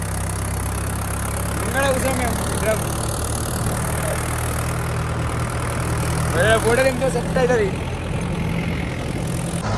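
A tractor engine chugs steadily at close range, a low continuous idle-like rumble throughout, with people talking over it in a couple of short bursts.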